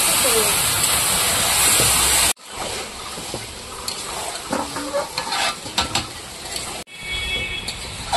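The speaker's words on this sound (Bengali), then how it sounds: "এখন মাংসটা দিয়ে দেবো, ভালো করে কষিয়ে নেব" Meat stir-frying in a pan with onion, tomato and bay leaf, a loud continuous sizzle and hiss up close. It briefly cuts out and returns, with clattering stirs and scrapes through the middle.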